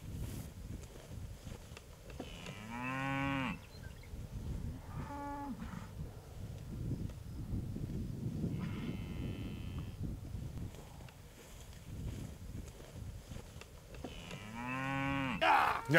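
Cattle moo repeatedly out on a farm pasture, with several long, loud calls spaced across the stretch over steady wind noise.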